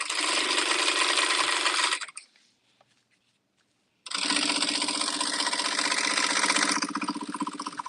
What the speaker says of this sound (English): So it almost looks like a twin needle stitch, but it's not. I just go through twice.